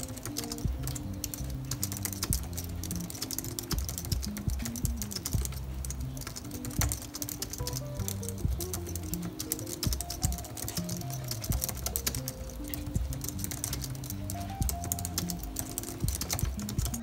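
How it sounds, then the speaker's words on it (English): Steady typing on an Apple Slim keyboard, a dense run of quick key clicks going on without pause at a close, even level, with no talking. "Now we're gonna try the Apple Slim keyboard"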